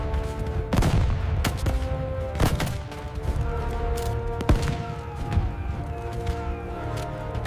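Battle of Kursk soundscape of German artillery and gunfire: repeated heavy booms and sharp cracks over a constant low, dense rumble of battle, with bursts of fire landing every second or so, loud and close.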